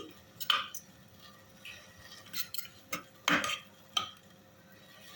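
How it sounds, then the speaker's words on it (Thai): A utensil stir-fries pounded fish meat with coconut milk in a pot: several short, quiet scrapes and clinks against the pot, spaced unevenly, with soft stirring between them. "เอาเนื้อปลาที่เราโขกเสร็จนะคะลงไป คั่ว ให้หอมนะคะ กับกะทิ"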